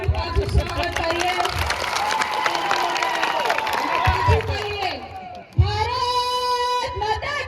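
A crowd at a political rally in Gujarat, India, claps and cheers loudly in a sustained wave, then fades out briefly before a fresh burst of clapping and shouting rises with a voice over it.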